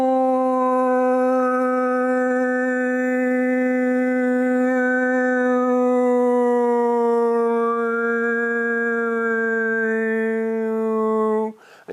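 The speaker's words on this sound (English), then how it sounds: "there was actually ways of creating multiple sounds with your voice, such as this" A steady sustained human voice hums a low drone for about eleven seconds, with bright overtone whistles gliding up and down above it, loud, close and alone, ending abruptly.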